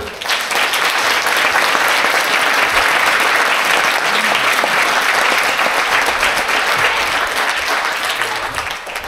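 A theater audience in Paris applauds steadily for about nine seconds, a dense, even wash of many hands clapping close by with no pauses.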